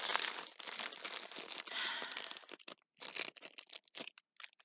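Close, quiet crinkling of a plastic bag, with bursts of rustling that turn into scattered crackles near the end.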